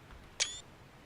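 A single quick camera-shutter click marks a screenshot being taken while playing Elden Ring, crisp and brief over a quiet low background hum.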